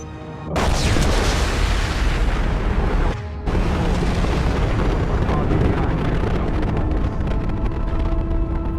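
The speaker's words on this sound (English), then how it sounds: "It's going to explode." A large explosion in the sci-fi video game Mass Effect 2 erupts with a loud, sustained roaring boom, briefly cuts out, then resumes as a long rumbling blast that fills the scene.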